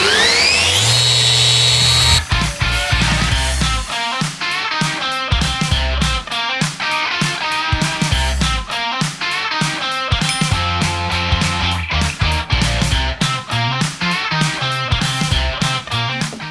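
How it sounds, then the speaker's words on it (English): A power sander works the edges of a zero clearance insert for a DeWalt table saw, whirring loudly up close in repeated bursts and stutters as it is pressed against the workpiece and eased off. "We have to clean it up a little bit with the sander so that it's nice and round."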